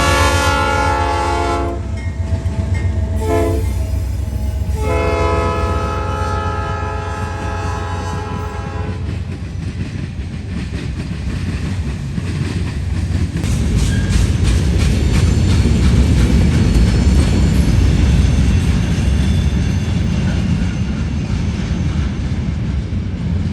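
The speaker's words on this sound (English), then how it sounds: "a pair of AC-44 C6Ms sandwiching a Dash 9. This train was laughably short, only 16 cars." Short freight train of 16 cars led by two AC-44 C6M locomotives with a Dash 9 between them, passing in Marion, Ohio; loud horn blasts open the pass, then steady rumbling and wheel clatter continue close by without talk.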